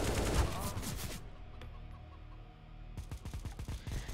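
A chicken clucks in a Counter-Strike: Global Offensive Wingman 2v2 match, its calls mixed with rapid bursts of gunfire near the start and end and a quieter stretch in between.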